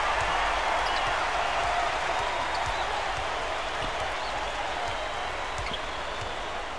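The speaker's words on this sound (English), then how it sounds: "Listen to the crowd, Vern." A basketball arena crowd at a college game in the Metrodome roars in a broad, sustained wash of cheering that fades slightly, with faint ball bounces and a commentator talking over it.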